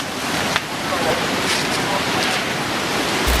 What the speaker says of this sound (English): The town was swallowed almost instantly as powerful waves carried cars, homes, and debris inland.